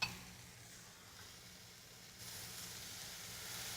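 A mochiko flour mixture sizzles quietly in a pan as it is stirred, with a soft, even hiss that rises a little partway through, faint and with no talking.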